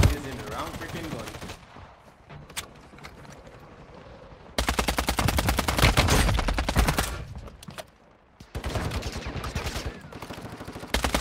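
Rapid automatic gunfire from the mobile shooter Warzone Mobile crackles in dense sustained bursts with short gaps between them, loud and close, while a voice talks over parts of it.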